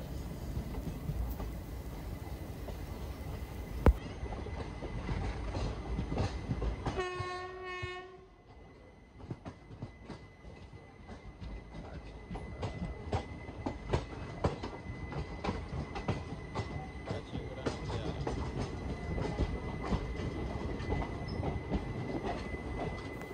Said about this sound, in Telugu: ఇది డెల్టా ఎక్స్ప్రెస్ అనుకుంటా